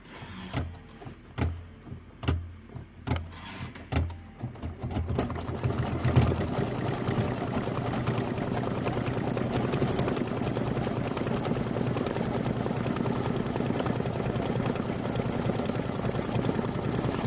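An embroidery sewing machine stitches a decorative outline on a mini quilt, starting with a few spaced thumps before settling into a fast, continuous, steady mechanical whir.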